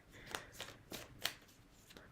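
Tarot cards are shuffled by hand in a series of about six crisp riffling bursts, close and fairly quiet, with short gaps between them.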